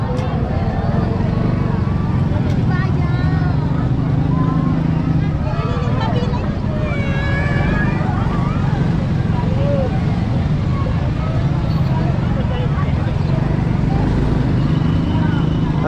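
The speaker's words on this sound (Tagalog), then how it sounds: "Para ma-break in ng husto tong motor ng aking kapatid." A motorcycle still being broken in rides along a road near Binalonan, Pangasinan, its engine a steady low drone mixed with wind and road noise throughout, while someone speaks over it.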